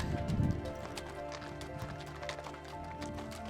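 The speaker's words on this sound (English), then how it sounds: "Always stand to the side as the horses and mules pass." Hooves of horses and mules clop steadily on a hard mountain trail in the Sierra Nevada as they plod past nearby, with a low rumble and faint background murmur.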